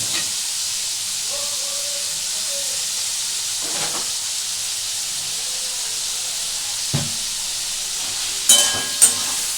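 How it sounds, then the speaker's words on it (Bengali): Prawns frying in a pan give a steady, loud sizzling hiss throughout, with a few soft scraping stirs and brief clinks of the utensil near the end. "এই চিংড়ি মাছটা আমি একটু অল্প অল্প নাড়াচাড়া করবো"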